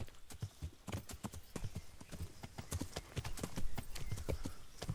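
Horse hooves while riding in the video game Kingdom Come Deliverance, a steady rapid clip-clop of hoofbeats, close and clear throughout.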